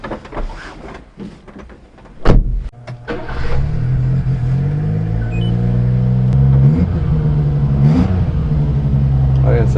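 A mini-truck fitted with an old Harley muffler starts up and pulls away; the exhaust rises from a sputtering idle into a loud, throaty, steady rumble, with brief talk early on.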